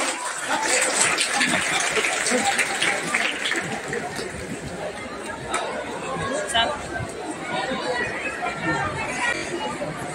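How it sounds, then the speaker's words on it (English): A packed school hall crowd at Badarpur Central Public School claps and chatters for a 12-year-old professor, a dense continuous wash of applause mixed with hubbub for about ten seconds. "Please give a huge round of applause for Sir Suborno Aizek Bari."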